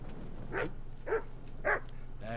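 A puppy in the video game Kingdom Come: Deliverance gives three short barks or yips spaced about half a second apart, moderately faint over a low steady background hum.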